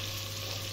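Food fries in a pot for Algerian mtewem, giving a close, steady crackling sizzle throughout the brief moment.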